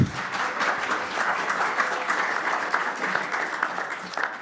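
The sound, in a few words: audience applause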